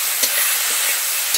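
Chowmein sauces of soy, green chili sauce and vinegar are stirred together in a hot pan, giving a steady loud sizzle broken by a few soft scrapes of the spoon.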